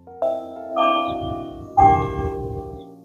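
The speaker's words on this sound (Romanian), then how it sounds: "am prins și momentul în care clopotele situate în partea superioară a clădirii care găzduiește opera din localitate" Bells atop the opera house building in Woodstock, Illinois ring out in a few resonant strikes, their ringing tones overlapping and sustaining between strokes, with no voices.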